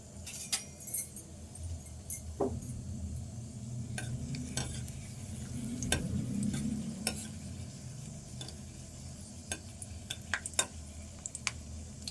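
Spring onion leaves hit hot oil with dried red chillies and green chillies in a pan, giving a steady low sizzle with scattered clinks and scrapes of a utensil stirring throughout.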